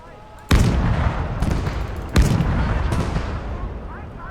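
Artillery and infantry fire in a Stalingrad battle video game, with infantry guns booming: a few heavy, loud blasts with rumbling tails over a continuous din of battle.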